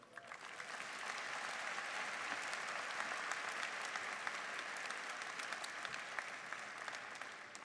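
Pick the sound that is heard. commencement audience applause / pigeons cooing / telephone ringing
commencement audience applause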